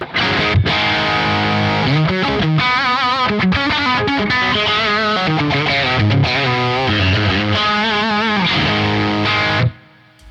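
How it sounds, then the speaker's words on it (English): A heavily overdriven electric guitar through an Origin Effects Revival Drive pedal plays thick, saturated chords and riffs at a loud, steady level, then cuts off abruptly near the end. "And then we've got the Origin Effects Revival drive for lots of gain."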